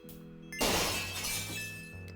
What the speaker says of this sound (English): Gabriel noticed a faint sound of breaking glass.